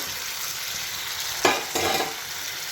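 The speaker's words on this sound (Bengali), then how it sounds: "এবার এইখানে ভেজে রাখা চিংড়ি মাছগুলো দিয়ে দেবো" Pre-fried prawns drop into a hot curry pan, setting off a sharp burst of sizzling and then a second surge over a steady background fry.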